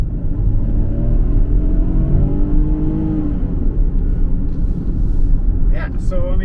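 Engine of a 2023 Ford Bronco Sport pulling under full throttle, a steady loud rumble with rising harmonic tones as it accelerates, continuous over about six seconds with some whine near the end.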